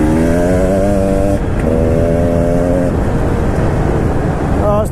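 A 2019 KTM 300 EXC TPI two-stroke dirt bike labours loudly through thick mud close by, its engine droning steadily and shifting pitch as the rider fights for grip.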